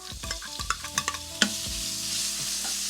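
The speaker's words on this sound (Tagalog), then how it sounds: "kapag nagigisa tayo ng bawang, halu-haluin natin to para maiwasan yung pagkasunog" Eight cloves of garlic hit hot oil for ginataang sitaw at kalabasa, with quick clinking utensil strikes against the pan at first, then a steady, close frying sizzle carrying through to the end.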